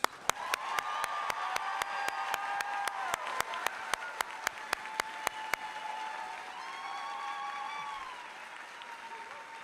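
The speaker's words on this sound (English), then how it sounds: "One more round of applause." Applause at a high school graduation ceremony comes as sharp, evenly spaced claps that stop partway through, heard over sustained musical tones in a large hall, fairly quiet overall.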